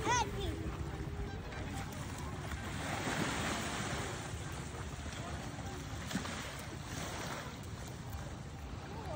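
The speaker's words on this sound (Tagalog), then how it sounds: "Ito naman ang dagat at 8 o'clock in the morning" Sea waves wash steadily on San Juan beach in La Union in the morning, a broad, continuous surf roar mixed with wind buffeting the microphone, while a voice talks faintly underneath.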